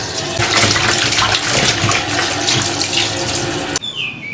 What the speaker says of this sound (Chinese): 把牛蛙好好洗一下